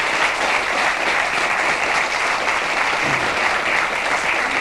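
A studio audience at a 1994 Icelandic television talk show gives a prize winner a warm round of applause, steady, loud and continuous throughout.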